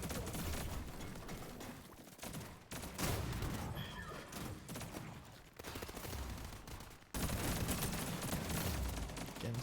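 Bursts of rapid gunfire in a battle royale shooter game crackle in dense volleys, broken by short pauses, loud and close throughout.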